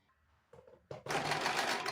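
A sewing machine runs a straight seam on a blouse strip, starting with a few soft clicks and then breaking into a fast, close, steady whir.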